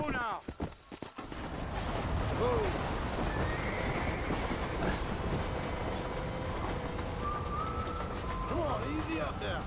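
In the video game Red Dead Redemption, a horse gives a couple of whinnies over a steady rumble of hooves and moving ground noise, after a few sharp knocks at the start.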